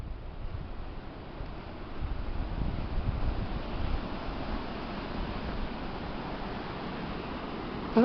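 Wind gusts across a farm where a tractor and muck spreader are at work, a faint, steady broadband rush that swells and eases over several seconds, with no voices.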